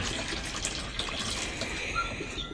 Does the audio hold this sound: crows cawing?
no